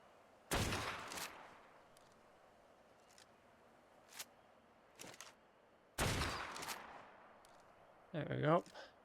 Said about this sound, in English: I need to take out a bunch of the Argentavises around this bit first. Luckily these bullets are quite hard hitting,